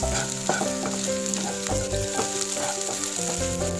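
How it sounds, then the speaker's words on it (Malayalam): Fenugreek seeds sizzle and fry in a hot pan for a sweet fenugreek porridge, with steady crackling and repeated scraping stirs of a utensil, close and loud, no voices. "നന്നായിട്ട് ഫ്രൈ ആവട്ടെ."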